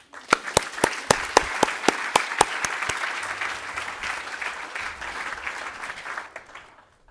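Conference audience applauding to welcome a keynote speaker: sharp individual claps open, swelling into steady, moderately distant applause that fades out near the end.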